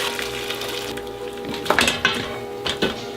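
Metal pots and a strainer clanking and scraping in a kitchen while stock is strained, a few close clattering knocks over a low steady background hum.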